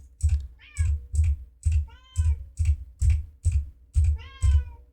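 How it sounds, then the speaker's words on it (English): A cat meows several times in short, plaintive calls, interleaved with a regular rhythm of soft thuds or key taps nearby, close and fairly clear. "Yeah, I hear you, kitty."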